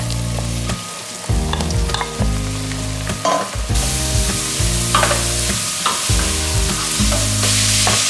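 Onions and grated carrot fry in a pan for moussaka, a steady close sizzle broken by repeated bursts of stirring and scraping, loud and continuous with no talk.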